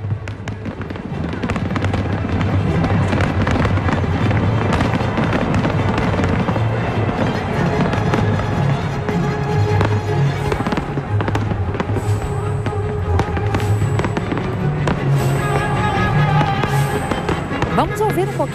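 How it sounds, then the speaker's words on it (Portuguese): Dense, continuous bursts of New Year's Eve fireworks over Copacabana beach crackle and boom throughout, with music and crowd noise blending underneath in a loud outdoor celebration. "esse magnífico espetáculo dos fogos de artifício"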